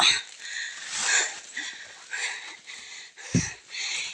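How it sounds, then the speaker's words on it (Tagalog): Heavy, ragged breathing and sniffing from a person climbing a steep, slippery muddy road, close and fairly faint, rising and falling in uneven breaths. "Hingal na hingal na naman ako."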